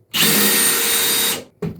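A Milwaukee cordless drill runs in one steady high-pitched whir for just over a second, stops, then gives a short second burst.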